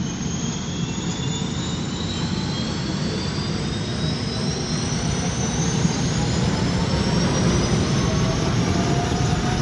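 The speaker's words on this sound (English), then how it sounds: "a set of helicopter rotors firing up" Helicopter rotors spin up as a sound effect: a loud, continuous engine roar with turbine whines slowly rising in pitch, steady and close throughout, with no voices.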